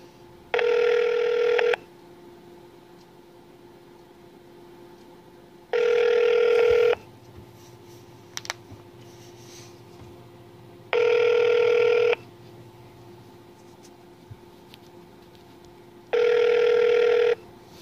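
An unanswered call to the Nevada Attorney General's office rings four times, each long ring repeating at an even pace with quiet gaps between them, clear and alone with no one picking up.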